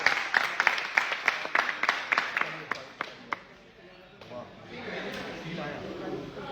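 A handful of people clapping at a direct selling event, sharp individual claps in a quick rhythm for a few seconds before thinning out, followed by quieter murmuring.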